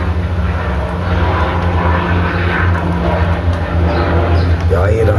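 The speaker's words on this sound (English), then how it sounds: "Y'all hear them choppers?" Helicopters flying over a city, a steady low droning rumble with pulsing rotor tones that holds loud and constant throughout, outdoors.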